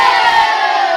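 A crowd boos in one loud, sustained, droning jeer that fills the whole brief moment.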